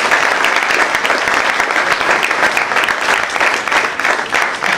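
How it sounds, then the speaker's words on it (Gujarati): Audience applause filling an auditorium at a science olympiad orientation program, steady and loud clapping from many hands throughout, with no break. "અને એના માટે આપ સૌ તાળી પાડો."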